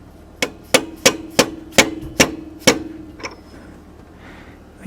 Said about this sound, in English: we're just going to use a dead blow hammer.